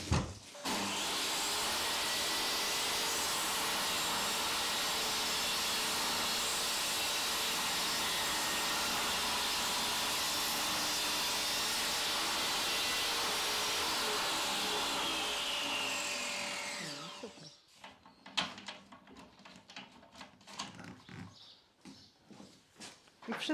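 A vacuum cleaner hooked up to a workshop table draws up sawdust with a loud, steady roar that runs for about seventeen seconds before shutting off, followed by scattered knocks and clatter.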